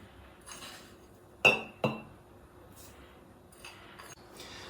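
Two sharp glassy clinks ring out as crushed spices are tipped into a glass container for a Kontushovka liqueur, followed by faint rattles and soft handling in a quiet room.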